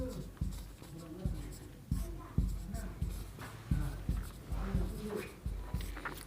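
A pen writes and draws lines on paper while physics notes are taken for a Class 10 lesson, making close, rhythmic scratching strokes with sharp taps about every half second and no talk.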